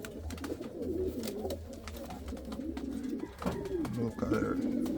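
Young Indian fantail pigeons cooing in rolling, repeated calls, close and continuous, with a voice faintly present in the background.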